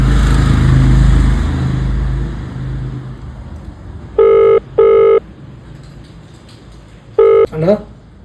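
An outgoing phone call rings through on the line with three short, loud ringback tones in two clusters, coming after a stretch of background noise and talk.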